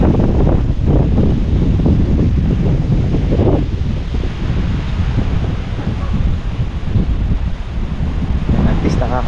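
Strong habagat monsoon wind blows across a tilapia fishpond, a steady loud rush of buffeting gusts with brief flurries, and low talk is faintly present beneath it.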